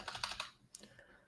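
Quick bursts of clicky keystrokes on a computer keyboard, close and fairly quiet, followed by a pause and a couple of isolated taps.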